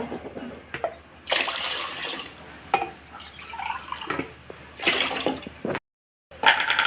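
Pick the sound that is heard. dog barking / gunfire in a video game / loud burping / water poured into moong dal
water poured into moong dal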